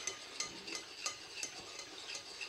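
Flour and baking powder being stirred together in a bowl for a tomato cake, soft rhythmic scraping strokes repeating roughly every third of a second, quiet and close.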